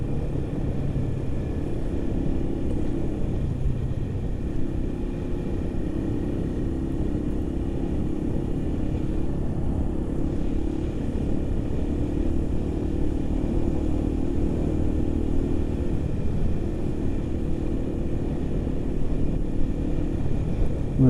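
A motorcycle riding along a road, a steady continuous engine drone with wind rumble that holds at an even level throughout, close and fairly loud with no talking.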